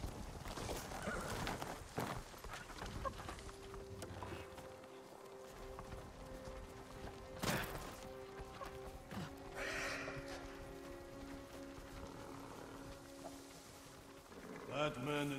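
Hooves clip-clop steadily at a trot in the video game Ghost of Tsushima, with a brief whinny and a low hum running underneath, fairly close throughout.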